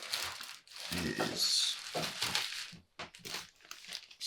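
Watercolor board paper crinkles and rustles in bursts close by, with a person talking over the crackling.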